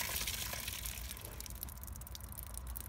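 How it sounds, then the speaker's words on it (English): Residual water draining out of a house hydrant line after shutoff, a steady, close trickling and splashing flow that holds fairly constant for the whole stretch with no talk. "So this is just draining all the residual water in the line now."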